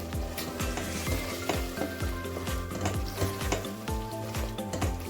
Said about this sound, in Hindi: और इसमें मैं शामिल करती हूँ आलू, बिकॉज हमको आलू पहले पकाना है